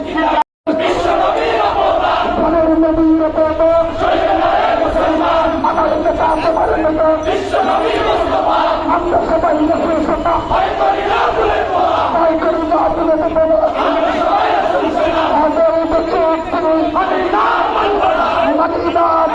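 A large crowd at a protest march near Baitul Mokarram in Dhaka, demanding abolition of quotas, chants loudly and rhythmically in unison, with continuous dense voices after a brief cut at the start.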